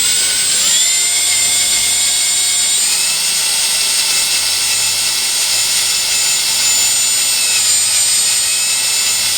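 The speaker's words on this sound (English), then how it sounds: "Low speed and expensive drill bit which can go through the hardened steel." A cobalt drill bit turning at low speed bores into a broken hardened steel bolt deep in a recessed hole, giving a steady, loud, high grinding whine that holds without pause and has no talk over it.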